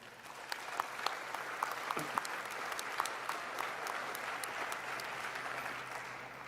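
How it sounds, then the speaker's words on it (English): At a high school graduation ceremony, an audience claps steadily for several seconds, the scattered individual claps blending into a moderately distant, even wash of applause with no talk over it. "Let's give them a round of applause as well."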